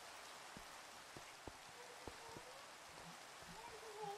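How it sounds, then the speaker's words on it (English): Rain in Minecraft falls as a steady, soft hiss, with scattered faint drops ticking throughout and a faint tone rising near the end. "Oh, and now it's raining."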